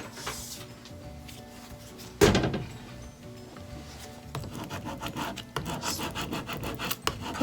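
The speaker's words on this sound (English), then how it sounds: "And I need my scraping tool." A plastic scraping tool rubs transfer tape down onto craft vinyl in repeated close, raspy strokes, with a sharp thump partway through and a faster scraping run near the end.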